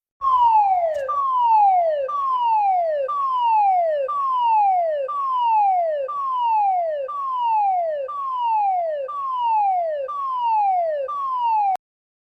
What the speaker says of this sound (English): H2S alarm.